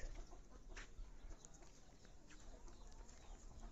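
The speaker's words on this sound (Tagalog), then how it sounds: "Yung mga manok, daming manok nila." Chickens cluck faintly in a rural farmyard during corn picking, scattered soft calls over a low background hiss.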